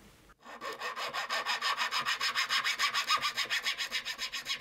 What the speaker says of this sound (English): I prefer using files to prepare the slots and then clean them with a vacuum cleaner or a brush.